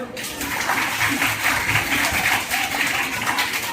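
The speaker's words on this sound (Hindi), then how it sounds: "और सारे टीचर्स के लिए एक जोरदार ताली मारो।" Children at a school program give their teachers a loud round of applause, a dense, steady clatter of many hands clapping together, close and sustained for a few seconds.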